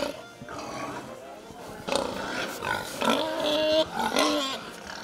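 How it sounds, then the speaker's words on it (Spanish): Pigs being fed grunt and squeal in close, irregular bursts of rough, throaty calls, with some overlapping and loud peaks, and no speech over them. "Ya hemos alimentado a esta tanda de puerco aquí"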